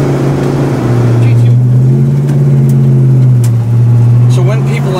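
A 1967 Pontiac GTO engine hums loudly and steadily, its pitch rising and falling as it revs and accelerates, close up, with voices faintly underneath.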